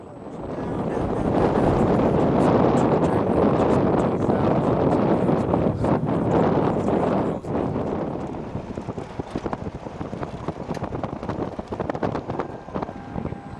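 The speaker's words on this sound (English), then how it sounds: "we found it virtually impossible to make ourselves heard above the sound of the furious wind" Furious wind roars through the Himalayas on the road toward the Tibetan border, a loud, continuous buffeting rush striking the microphone throughout, strongest in the first half and then gusting slightly lower with crackling bursts.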